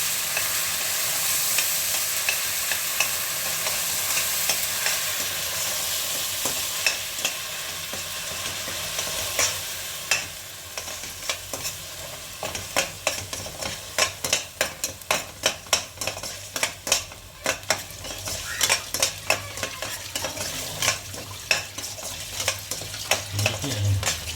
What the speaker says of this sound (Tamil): 2 வெங்காயம் பேஸ்ட்டு அதில் போட்டு வதக்கணும். பொன் வரவெல்லாம் வதங்கணும்.